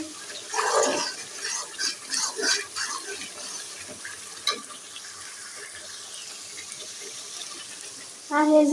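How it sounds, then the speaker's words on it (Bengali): Beef nihari being washed under running tap water in a home kitchen, a steady rush and splash of water with brief speech at the start and a louder burst near the end. "নিহারি ধুইলাম আবার নিহারি ধুইলাম"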